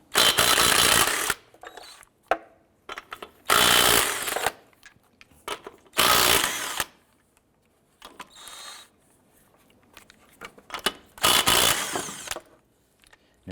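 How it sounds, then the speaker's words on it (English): Lug nuts being removed with a 19mm socket on an early-2000s Honda Civic wheel, four loud bursts of impact-wrench whirring, each about a second long, separated by quiet gaps with small clicks and handling noises. "go ahead and remove the lug nuts"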